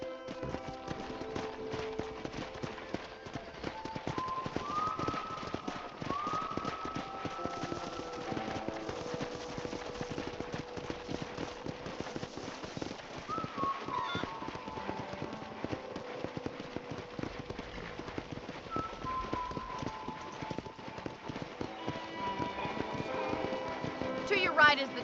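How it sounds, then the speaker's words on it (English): Horse hooves clip-clop steadily through Red Dead Redemption gameplay on a ranch, a continuous soft trotting rhythm beneath talking voices and faint background music. "I picked out a fine horse for you."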